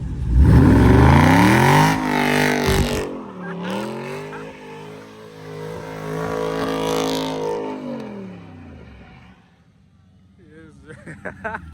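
A car engine revs hard and whines with tire squeal during a burnout, then drops off, with people shouting nearby over the roar.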